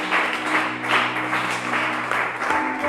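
A church congregation applauding together during a celebration service, a steady dense wash of hand claps held at an even level throughout.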